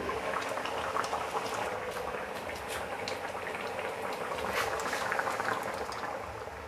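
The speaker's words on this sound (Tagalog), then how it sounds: "Takpan muna natin, hayaan natin magmamantika yung ating gata." Coconut milk bubbles steadily in a covered pot with a whole milkfish of nearly 2 kilos, giving a continuous close, moderately loud rolling boil with scattered popping bursts and no talk.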